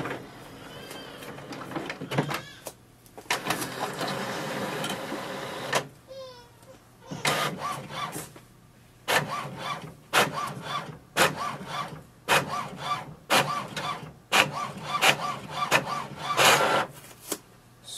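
An HP OfficeJet Pro 9010 inkjet printer prints a page: a run of short, rhythmic mechanical whirs and clicks as the paper feeds through, fairly close and with no talk.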